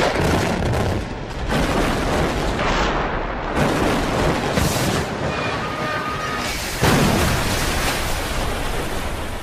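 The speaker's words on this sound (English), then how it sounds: "An explosion could damage the neighboring bridges." Explosive demolition of a large steel bridge, heard as a dense, continuous roar of blasts and booms rolling on for several seconds with repeated heavy surges, loud and unbroken by speech.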